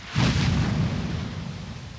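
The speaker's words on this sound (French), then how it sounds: "ce sont des blocs de glace qui s'effondrent dans le lac." Ice blocks break off the Perito Moreno glacier and crash into the lake, giving one sudden distant boom that rolls into a low, fading rumble.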